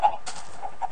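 A few short, clipped Minecraft chicken clucks in quick succession, fairly close, with a faint game-like background hum.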